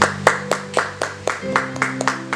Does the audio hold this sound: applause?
yes